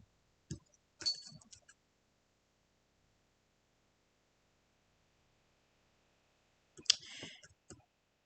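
Computer mouse clicks in a quiet room, a few crisp clicks near the start and another short cluster near the end, close and sharp with silence between.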